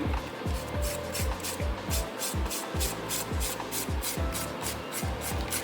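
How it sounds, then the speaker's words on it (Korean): A nail file rasps back and forth across the surface of a finished nail during a manicure, in steady rhythmic strokes about two per second. The sound is close and continuous, with no talking. "표면 파일링 시작해 볼게요"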